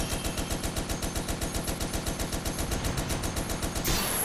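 Rapid, steady bursts of turret machine-gun fire in the video game Toy Soldiers War Chest, evenly spaced shots hammering continuously for several seconds before cutting off into a brief blast of noise.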